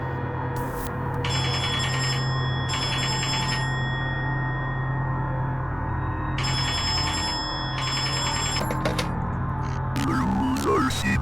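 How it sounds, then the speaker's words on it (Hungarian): A telephone rings in a shotgun Russian-roulette game, sounding as two bursts of bright ringing, a pause, then two more, over a steady low droning background. "Csörög a telefon."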